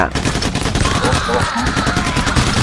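Rapid, loud gunfire in the heist shooter PAYDAY: The Heist, a dense continuous fusillade of automatic shots with overlapping blasts and a voice faintly beneath.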